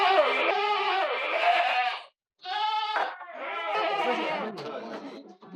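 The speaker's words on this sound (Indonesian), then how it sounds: "Ada kambing yang baru lahir" Goats at a commercial goat farm where a doe is giving birth, bleating loud and close in long wavering calls with a short pause between them.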